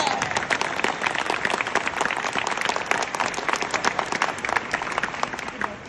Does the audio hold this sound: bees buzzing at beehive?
no